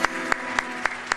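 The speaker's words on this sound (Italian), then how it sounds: "Un applauso." Audience applause for the singer at a live music show, heard as five evenly spaced, sharp claps over a sustained musical tone in the background.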